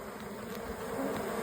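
Honey bees buzz in a hive, a dense, steady swarm hum heard up close and alone.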